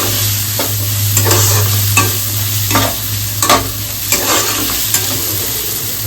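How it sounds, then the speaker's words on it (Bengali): Vegetables sizzle and fry steadily in a pan for chicken pulao, with repeated scraping strokes of a spatula stirring them every second or so. "ভেজিটেবলসটা একটু ভাজা ভাজা হয়ে যাবে।"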